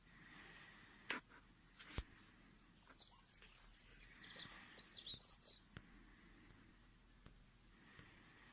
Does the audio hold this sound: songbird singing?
yes